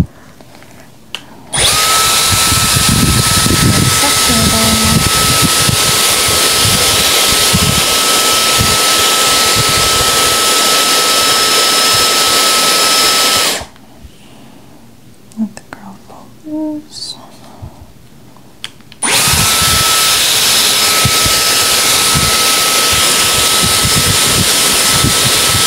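A Dyson Airwrap hair styler blows air in two long, loud, steady bursts of close rushing whoosh with a faint high whine. A quiet gap between them holds soft handling sounds and a low whisper.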